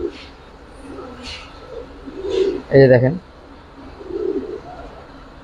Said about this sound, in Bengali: এগুলো খুবই হারামি ব্লাডের কবুতর